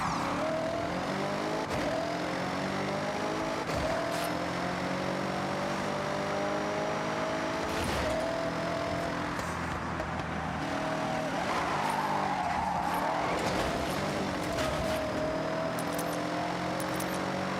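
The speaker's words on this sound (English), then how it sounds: "Is it me or kind of sounds weird for a Mercedes engine" A Mercedes car in the Forza Horizon video game races with a continuous, loud engine tone that rises and falls as it shifts through gears, heard alone without talk.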